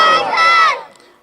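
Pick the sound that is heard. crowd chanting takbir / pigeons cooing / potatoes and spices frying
crowd chanting takbir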